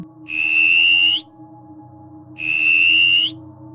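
Two long, steady whistled tones, each held for about a second, sound loud and clear with a pause between them over a low background hum.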